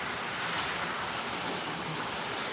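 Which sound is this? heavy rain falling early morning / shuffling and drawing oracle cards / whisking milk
heavy rain falling early morning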